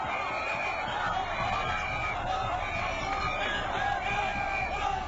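Dense, continuous din of a large crowd at Félix Houphouët-Boigny airport welcoming the Ivory Coast Elephants football team, with whistles and horn-like tones ringing over the constant roar.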